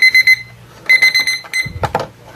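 A kitchen timer goes off while cookies bake: loud, sharp electronic beeps in quick bursts of three, a second burst, then a clatter as the timer is handled.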